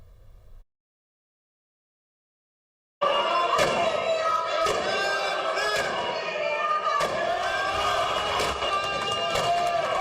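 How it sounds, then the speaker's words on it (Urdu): Repeated thumps of an opposition leader banging his fists on a desk in parliament ring out amid a noisy chamber of shouting and chanting members, following a short stretch of silence. "اپوزیشن لیڈر عمر ایوب مکے مار مار کر ڈسک بجاتے رہے"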